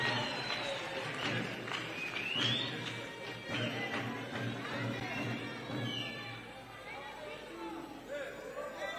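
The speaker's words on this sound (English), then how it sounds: "A very warm round of applause, ladies and gentlemen." Audience applause and crowd chatter fill an honorary doctorate conferment ceremony at Mulungushi University, a steady dense wash of clapping with voices mixed in throughout.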